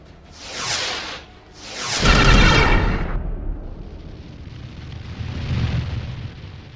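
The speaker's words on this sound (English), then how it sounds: "Secondary explosions, internal fires." Two booming, rumbling explosions of a ship in the space game Star Traders: Frontiers, each swelling and fading, followed by a lingering roar of fire and debris.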